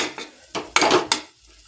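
Masala stirred and fried in a pan for a vegetable dish, with a few distinct metallic scrapes and clinks of a spatula against the pan, close up and alone, between short quiet gaps.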